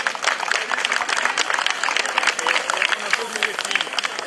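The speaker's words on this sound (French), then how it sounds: "on applaudit les coureurs qui terminent cette étape." Spectators clapping for cyclists finishing a stage of the 2013 Tour d'Auvergne cycling race, a dense, steady round of applause throughout, with an announcer talking over it.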